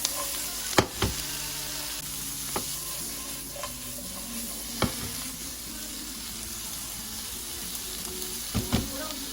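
Onions stir-fry in a pan with a steady sizzling hiss, close and moderately loud, punctuated by several sharp clacks of a utensil against the pan at irregular intervals.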